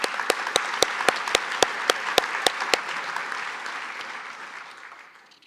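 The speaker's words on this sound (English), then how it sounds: "So how about a round of applause for Robert?" Applause at a senator's veterans recognition ceremony, steady clapping from a seated audience with a few sharp, evenly spaced louder claps, fading out toward the end.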